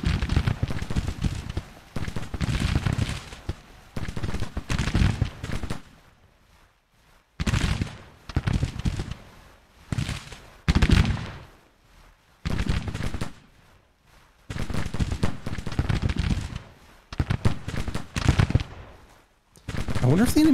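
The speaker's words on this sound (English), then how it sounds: "It says we're firing, but I think it's only a small percentage of the regiment that actually is shooting." Musket volleys from Civil War regiments in the Grand Tactician video game crackle in dense, repeated bursts separated by short pauses, with occasional talking between them.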